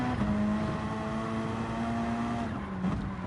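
A race car engine in a sim racing game holds a steady, droning tone at Watkins Glen, with a slight pitch dip near the end as if shifting or lifting, continuous and fairly close.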